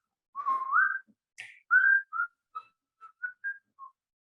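A clear, melodic whistled tune from a wrestler's theme song, a rising phrase followed by a string of short separate notes, heard alone and fairly quiet.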